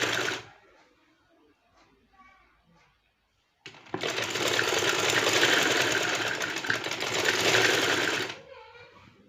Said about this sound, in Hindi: इसको पूरा स्टिचिंग करना है, रखते जाएं एंड स्टिचिंग करते जाएं।